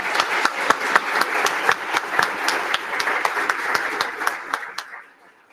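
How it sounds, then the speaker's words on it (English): Audience applause for an honoree at a university leadership awards night, sharp distinct claps over a dense wash, holding steady before fading out near the end. "Let's give a big round of applause for our next unsung hero"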